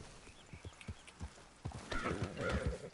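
Video game horse hooves beat in a steady clip-clop trot that grows louder, with a whinny rising near the end.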